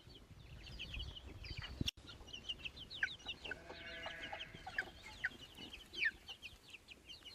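A chicken on a farm gives faint, scattered clucks and short squawky notes, irregularly spaced over a low rustling background with a brief thump partway through.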